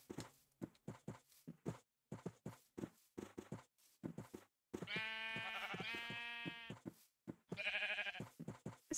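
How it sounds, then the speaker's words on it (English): Sheep bleating in Minecraft, two drawn-out bleats standing out over a steady rhythm of clip-clop footsteps, close and moderately loud. "Come on, sheep."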